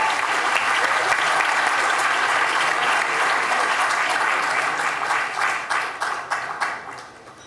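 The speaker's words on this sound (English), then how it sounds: "please give a round of applause to President Ilan again" Sustained audience applause at an IDB Group 2023 Knowledge Week prize awards event, steady and dense for most of the stretch, then thinning into scattered claps as it fades out.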